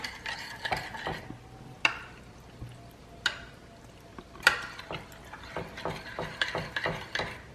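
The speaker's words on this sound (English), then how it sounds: "Let's mix that on up real nicely." Macaroni and cheese ingredients stirred in a pot, irregular scraping and clinking utensil strokes with soft wet squelches, fairly close, no talking.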